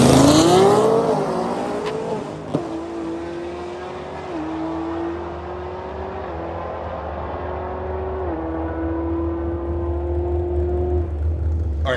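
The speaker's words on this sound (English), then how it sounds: "check out this 1023 pass with the Launch Edition" A 2024 Ford Mustang Launch Edition with an automatic and a Roush supercharger on a drag strip pass, its engine note rising steadily through the gears as a loud, sustained whine and roar with a sharp shift crack early on.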